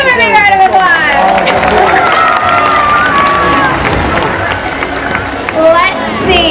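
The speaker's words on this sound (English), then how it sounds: "Let's give them a big round of applause." Crowd at the SeaWorld San Diego Orca Encounter show claps and cheers for the orcas, a loud, steady wash of applause and cheering with children's shouts, continuous throughout.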